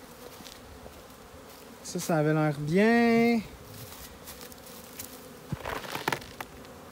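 Honey bees buzzing around the entrance of a hive in an apiary during their first flight of the year, a steady insect drone with a closer bee passing by, while a person briefly speaks over it.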